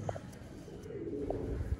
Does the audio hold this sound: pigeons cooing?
yes